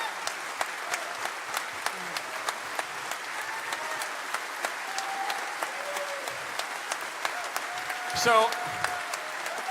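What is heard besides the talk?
audience applause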